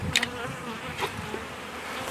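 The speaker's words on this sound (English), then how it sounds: "you can see there's a lot of bees in this box." Steady insect buzzing fills the clip, a dense close hum of many honey bees in a hive box with a brief sharper burst near the start.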